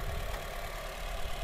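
Engine of a used three-row car idling, checked during an inspection, heard as a steady, smooth low rumble with an even hum throughout and no talking.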